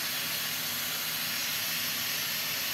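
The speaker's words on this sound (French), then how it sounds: "Voilà, il y a la vapeur qui s'échappe." Steam escaping under pressure gives a steady, broad hiss that stays even and unbroken throughout, fairly loud and close, with no voices.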